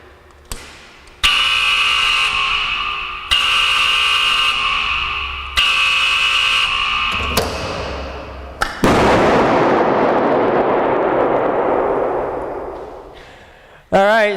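A blast destroying an iPhone during a test, a series of sharp bangs, each followed by a ringing electronic buzz or tone, then a big final burst of crackling noise that fades away.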